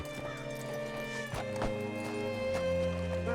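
Horse hooves clip-clop at a slow walk in Red Dead Redemption 2, a few distinct hits over a steady tonal game soundtrack, fairly close.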